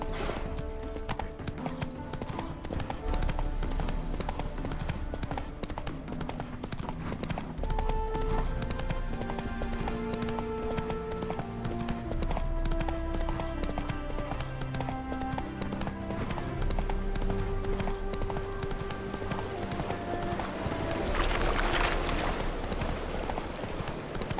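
Roach the horse gallops in The Witcher 3: Hearts of Stone, steady rapid hoof clip-clops running under game music, with a brief burst of louder noise near the end and someone speaking.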